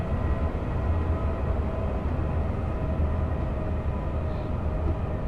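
A Class 710 electric train passes in the rail simulator Train Sim World 5, giving a steady, loud rumbling roar with wheel noise that holds evenly throughout, with no talking.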